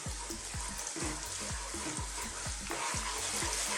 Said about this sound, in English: we just want to kind of saute it in there